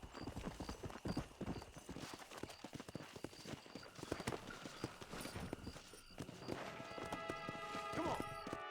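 Hooves clop rapidly and steadily on a hard surface, a horse trotting close by in the video game Red Dead Redemption, with a brief whinny-like sound near the end.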